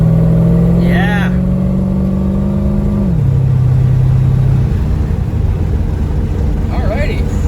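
A Corvette's engine hums steadily at low pitch while cruising in open air, the tone stepping down partway through as it shifts; a voice speaks briefly near the start and end over the continuous drone.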